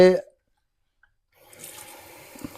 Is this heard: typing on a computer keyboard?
no